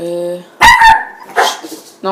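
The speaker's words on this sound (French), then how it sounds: "Désolé, c'est mon chien." A dog barks loudly a few times close by, with a voice speaking briefly before and after the barks.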